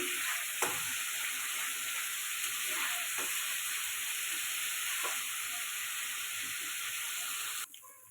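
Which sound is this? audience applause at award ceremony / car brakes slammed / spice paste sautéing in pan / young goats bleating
spice paste sautéing in pan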